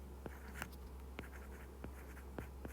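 Pen strokes on paper while hand-writing data for a soil relative density problem: soft, quiet scratches in short bursts with brief pauses, close to the microphone, with no talking.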